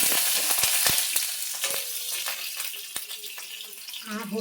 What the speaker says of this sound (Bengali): দিয়ে হচ্ছে কালো জিরে ফোড়ন দিচ্ছি, আর হচ্ছে কাঁচা লঙ্কা ফোড়ন দিচ্ছি